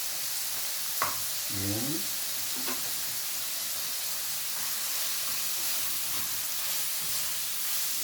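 Meat for menudo cooking in a pan with ingredients just added, giving a steady, loud broadband sizzle throughout, with a brief spoken word and a short voiced sound near the start.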